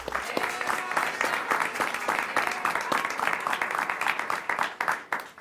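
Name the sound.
audience applause on a TV show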